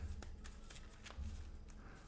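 A deck of board game cards for Hexplore It is shuffled close by: quick riffling clicks and soft slaps, faint and brief, with no speech.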